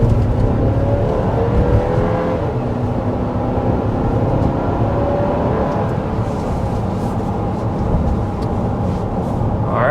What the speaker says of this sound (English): that's a 60 mile an hour acceleration with our Acadia AT4